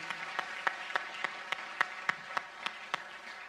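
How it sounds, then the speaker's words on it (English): Applause from an audience at an evening awards ceremony in a theatre, honoring finalists; distinct claps pop out in a steady rhythm over a faint, thin wash, sounding sparse and somewhat distant. "Let's get a round of applause for all of our finalists"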